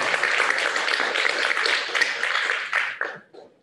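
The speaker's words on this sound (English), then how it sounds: "may I invite everyone to give the Minister and his team a round of applause" A round of applause from an audience for a Minister and his team at a conversation event, dense steady clapping for about three seconds, then tapering off into a few scattered claps.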